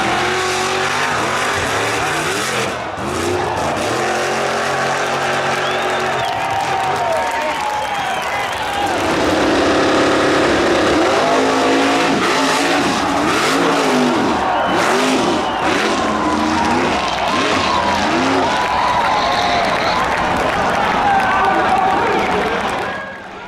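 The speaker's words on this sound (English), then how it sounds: "The next two clips are of Chevy pickup trucks at the Byron wheel stand competition." Chevy pickup trucks compete at the Byron wheel stand competition: loud engines roar and rev hard with screeching tires and a cheering crowd, the noise swelling heavily in the second half.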